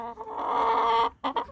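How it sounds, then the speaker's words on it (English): A noisy chicken lets out a long, loud cluck close by, then two short clucks after a brief pause. "I have a really noisy chicken"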